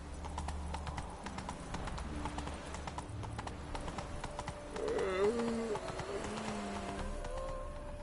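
Roach the horse gallops in The Witcher 3, a rhythmic clip-clop of hooves running steadily with a brief voice over the hoofbeats.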